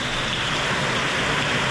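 Heavy rain pours down steadily in a dense, broad hiss, loud and unbroken throughout with no voices.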